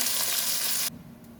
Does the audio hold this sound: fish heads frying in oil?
yes